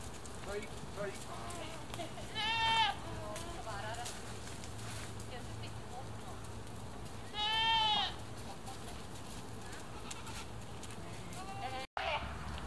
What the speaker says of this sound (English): the goats are probably not too happy about that